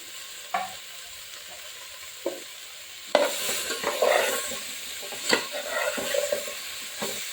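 Pieces of bottle gourd, cucumber and drumstick tumble into a pot for sambar, with a few sharp clatters and then a burst of sizzling and stirring that carries on without any talk.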